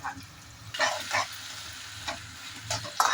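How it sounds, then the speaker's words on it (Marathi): Blended onion and tomato cooking down in a pan for Kolhapuri kurma give a soft, low sizzle, with a few short stirring bursts. "मी 2 मिनिटं ठेवलेलं असं कांदा टोमॅटो भाजण्यासाठी, चांगलं शिजण्यासाठी ठेवला"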